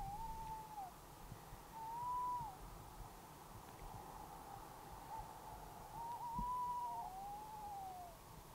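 An owl hoots at night over open fields, a few drawn-out calls spaced across the stretch, faint and distant above a low steady background hiss with no voices.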